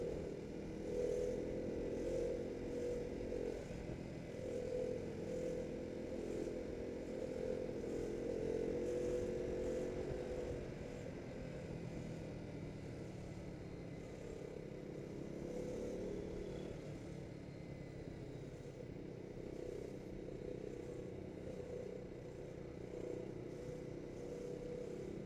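A KTM RC250 motorcycle engine hums at low revs while riding, a fairly faint, steady drone that eases off partway through, with no talk.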